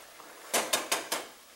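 Four sharp clanks ring out in quick succession as lamb pieces are stirred with spices in a pan, each knock close and clear against the metal.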